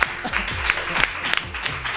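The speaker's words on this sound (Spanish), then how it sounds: "Un aplauso para Miguel!" Applause at a comedy-style talk show in Spanish, a brief burst of clapping rising over room noise and a busy crowd, with a voice speaking over it.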